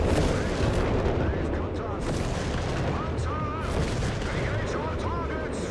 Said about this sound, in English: Got airburst shells here.